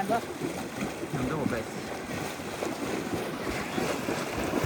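A fishing boat moves across the open sea with a steady, loud rush of water, wind and engine noise that never lets up. Low voices may be buried in the mix.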